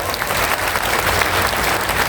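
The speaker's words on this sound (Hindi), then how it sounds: "विधानसभा अध्यक्ष डॉक्टर सीपी जोशी साहब का जोरदार तालियां बजाकर स्वागत किया जाए" A large audience at a political gathering bursts into loud, sustained applause to welcome the chief guest, the Assembly Speaker, with dense clapping steady throughout.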